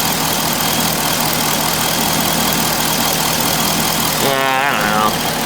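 A 2005 Corvette engine with a lean-running fault idles with a steady, loud mechanical hum, and a brief rising tone or voice-like sound appears near the end.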